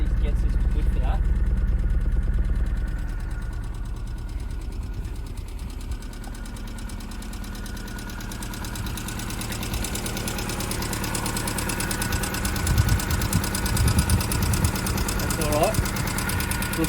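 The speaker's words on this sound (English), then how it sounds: "Got a bit of a tick, but it's also got a check engine light. So, I got a feeling it's misfiring." A cheap $1000 budget race car engine idles with a misfire and a check-engine fault, a steady close, loud low rumble carrying a faint rhythmic tick throughout.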